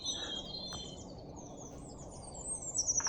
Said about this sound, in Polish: Słuchajcie tych dźwięków. Nie ma nic piękniejszego niż las. I te wszystkie ptaszki.